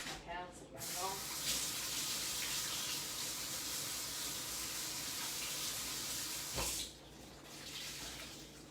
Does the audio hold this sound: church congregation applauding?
no